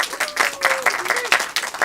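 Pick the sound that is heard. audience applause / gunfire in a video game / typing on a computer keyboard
audience applause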